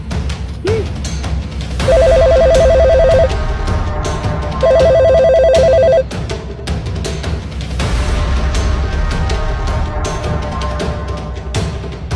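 Two bursts of a telephone ringback tone, each lasting about a second and a half, heard while a call is placed to a mental hospital. They sit over a busy, noisy background with scattered clatter and no speech.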